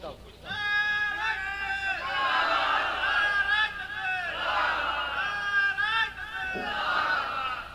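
A large crowd at an outdoor religious sermon shouts the takbir in unison, Allahu Akbar, a loud sustained roar of many voices that swells and repeats in several waves, close and dense.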